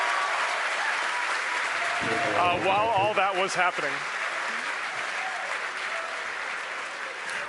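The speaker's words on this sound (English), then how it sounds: "The crowd's going nuts here at SpaceX headquarters in Hawthorne." A crowd at SpaceX headquarters in Hawthorne cheers and applauds after a Falcon 9 booster lands on a drone ship. The dense clapping and cheering run steadily through the whole stretch, with someone talking over it midway.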